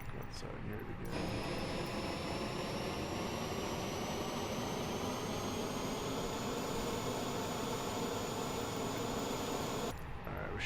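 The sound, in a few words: FBW A320 jet engines in Microsoft Flight Simulator video game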